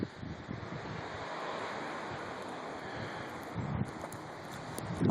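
Steady wind roaring through a snowstorm, with continuous broadband buffeting on the microphone that swells slightly near the end; no talking.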